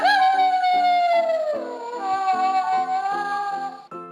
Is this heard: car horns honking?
no